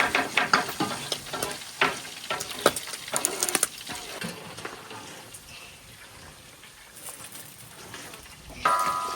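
Hot oil spattering and sizzling in a pan during outdoor village cooking, with sharp crackling pops that come thickest in the first few seconds and then settle into a softer, steady frying hiss.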